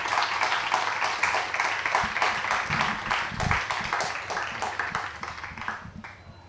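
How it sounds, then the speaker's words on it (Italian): Festival audience applause at Sherwood Festival, a steady wash of many hands clapping over 6 seconds that thins and fades toward the end, with some low crowd murmur underneath. "vorrei che facessimo un applauso a Maria Edgarda"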